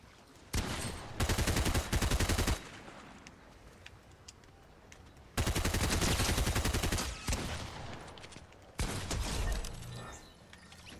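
Bursts of gunfire in the Fortnite video game, including a shotgun: three loud rapid-fire volleys separated by quieter gaps, with no talking.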